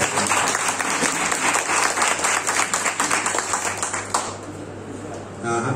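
A crowd at a pastors' meeting in Ongole breaks into loud, sustained applause. Many hands clap together in a dense roar that thins slightly toward the end.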